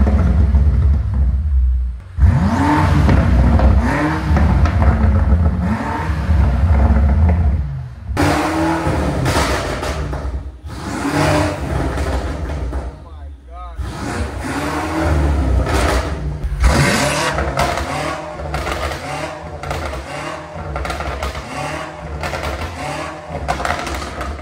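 A BMW M8 Competition fitted with a catless downpipe exhaust and Eventuri intakes revs repeatedly, with deep rising-and-falling engine swells and brief pauses between bursts. The sound is close and loud throughout.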